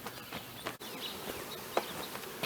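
Honeybees buzz around a hive fitted with an escape board, a faint steady hum of many insects close by with small scattered bumps and knocks, no voices.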